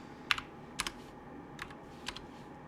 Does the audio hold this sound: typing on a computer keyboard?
yes